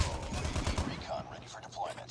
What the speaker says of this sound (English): I guess I can just shoot, that's all.